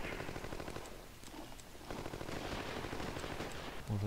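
Rapid gunfire from a Panzerjäger I tank destroyer in the strategy game Panzer General 3D, a dense continuous rattle of shots filling the clip at steady loudness.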